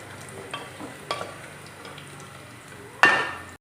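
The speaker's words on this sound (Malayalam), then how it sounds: "ഒരു ചെറിയൊരു ഗോൾഡൻ കളർ ആകുന്നോടം വരെ നമുക്കൊന്ന് വറുത്തെടുക്കാവേ" Grated coconut frying in a pan until golden for a Kerala kalathappam, with faint soft sizzling under a few stirring scrapes and a sharper clatter of utensil on pan near the end.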